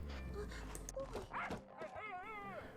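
A startled dog in the video game TOHU lets out a few yips and whimpering cries in quick succession, sitting close and mixed in with steady talking throughout.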